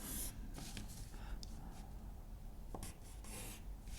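A pen scratches across paper while drawing a triangle in a maths lesson, a faint, close scraping of short strokes and pauses.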